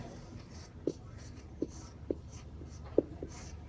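A pen writes a name by hand on paper, four or five short distinct scratchy strokes at uneven intervals, close and quiet over a faint room hum, with no talk.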